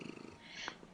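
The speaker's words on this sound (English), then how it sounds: "I think we should explain that noise is actually Chrono purring into the microphone" A cat purrs right into a microphone, a brief, faint, rumbling pulse followed by a soft breathy rise.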